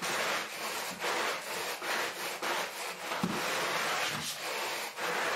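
A maggot-infested rug is scrubbed with dry, crunchy rasping strokes that repeat in quick rhythmic passes, close and fairly quiet, with no voices.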